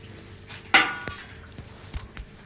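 A spoon mixes cashews, almonds and ground seeds in a metal pan for fenugreek laddu, with one sharp loud clank followed by a few softer scraping knocks and taps.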